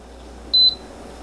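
A single short electronic beep as the power button is pressed on a TEDFLOP dual-basket 9-quart air fryer sitting on an oven, clear over faint room hiss, with no talk.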